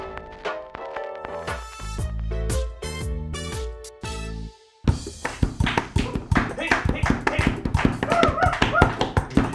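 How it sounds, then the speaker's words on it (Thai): Knocking on a tabletop in a Thai dashcam talk show, a fast series of sharp taps and knocks at close range, followed by livelier clattering mixed with talk and laughter. "ทุกคลิปต้องเคาะโต๊ะตลอดนะครับ"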